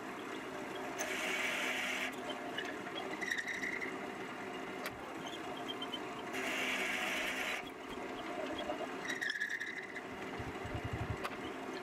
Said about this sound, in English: use a Forstner bit with my Jacob's chuck to remove some of the center material